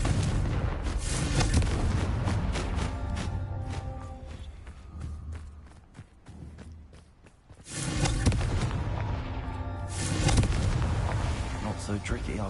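Confringo blasting spell from a Harry Potter video game, loud booming explosions with rumbling debris, fading to a quieter lull before another heavy blast bursts in and carries on.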